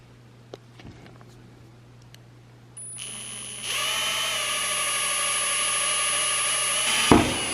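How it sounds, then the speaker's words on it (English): A drill bores into the body of a Porsche Cayman S: after a few quiet clicks, a loud, steady high-pitched whine starts and grows more intense, holding for several seconds before cutting off with a brief scrape. "We're gonna drill a hole in my Porsche."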